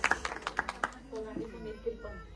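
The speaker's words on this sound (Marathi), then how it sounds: "वहिनींसाठी जोरदार टाळ्या" Applause from the audience at a Home Minister Khel Paithanicha prize game in Shahapur: a burst of clapping in the first second, with several sharp claps, fading into talk and background chatter.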